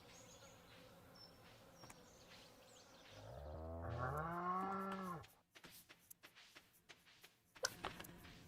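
Stardew Valley farm cows let out a single drawn-out moo midway through, quiet in the game audio, amid faint chimes and small clicks before and after.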